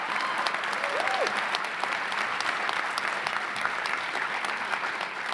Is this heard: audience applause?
yes